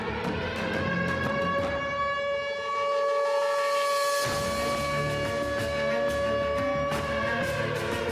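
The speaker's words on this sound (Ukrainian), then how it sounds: "майже у всіх містах беззупину лунають тривожні сирени" An air raid siren in Ukraine, February 2022, wails steadily and loudly, its drawn-out tone sustained without break for several seconds.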